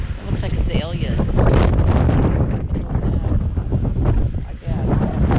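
Strong wind buffets the microphone in loud gusting rumbles, with voices talking faintly underneath.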